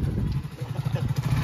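Motorcycle being wheeled out and started in a village, giving a close, steady low engine rumble with some clatter, fairly loud, with no voices.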